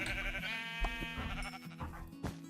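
Sheep in Minecraft bleat loudly and repeatedly in a wavering, nasal tone, layered over a steady synthetic background drone.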